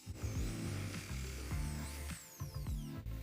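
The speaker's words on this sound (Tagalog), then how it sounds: "Ayon sa marka, gagamit tayo ng manipis na drill bit muna," A power drill with a thin bit bores holes in an antenna reflector, its motor whining in short repeated spurts with rising and falling pitch, close and moderately loud, with no talking.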